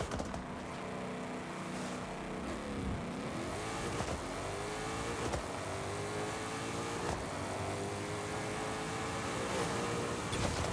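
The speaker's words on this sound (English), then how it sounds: "Alrighty, let's do a little burnout." A drag car burnout in Forza Horizon 5 holds a sustained high-revving engine drone with rising and falling pitch sweeps and a constant hiss, steady and fairly loud with no talking.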